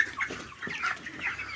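Broiler chickens in a poultry shed, several birds clucking softly in short, irregular calls, fairly quiet and close with no talk.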